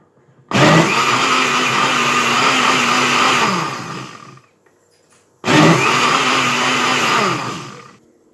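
An electric blender blending onions and scotch bonnet peppers for fish stew, two loud whirring runs of about four and three seconds each, motor pitch shifting as the contents break down, separated by a brief pause.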